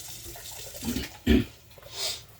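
Hot water from a kitchen tap runs in short, uneven bursts, with a louder splash midway and a softer hiss near the end; no one speaks.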